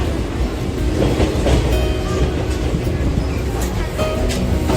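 A passenger train rolls on rails in northeast India between Silchar and Agartala, giving a steady loud rumble with faint clickety-clack and some wheel noise, heard from inside the carriage.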